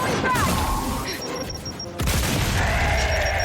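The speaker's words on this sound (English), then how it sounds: "Oh, you got killed by your own frag." A frag grenade goes off in a video game with a sharp, loud boom followed by crashing, rumbling debris that lasts a few seconds, and a second burst arrives about halfway through.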